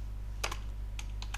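Typing C# code on a computer keyboard, a few quick close key clicks in two small clusters over a steady low hum, no speech.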